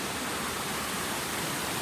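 Multi-tiered waterfall in a gorge, a constant broad rushing roar of falling water with no breaks, steady and loud, heard alone without voices.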